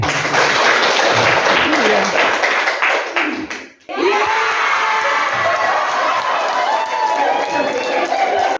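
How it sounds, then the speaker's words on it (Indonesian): A church congregation claps in dense, steady applause that briefly fades out midway, then swells back up loud and sustained. "tepuk tangan untuk Pak Andri."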